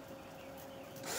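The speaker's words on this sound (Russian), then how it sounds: "Сверлим вниз." A power drill whirs in a short, steady burst, its pitch rising slightly toward the end.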